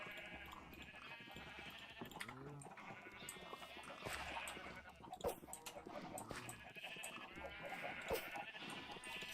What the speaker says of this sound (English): let's go pay a visit to the sheep